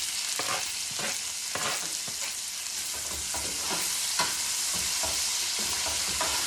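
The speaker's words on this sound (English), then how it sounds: "And we're going to stir fry that in the olive oil." Onion stir-frying in olive oil in a pan after searing fish, a steady sizzle punctuated by repeated scraping stirs of a utensil against the pan, close-up and without talk.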